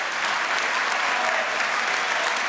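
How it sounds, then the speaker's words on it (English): Dense, steady applause from a school assembly audience honoring its president at a Martin Luther King Jr. event, a continuous wash of many hands clapping at even loudness with no break. "Let's give our president another round of applause."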